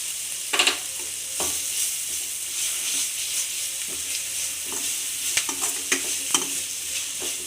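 Tomatoes with ginger garlic paste, salt and turmeric sauté in a pan, a steady sizzle broken by repeated scraping stirs of a spoon, close and without talk.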